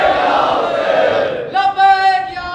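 A large religious gathering chants the slogan Labbaik ya Hussain, a loud massed roar of voices followed by a strong sustained group chant.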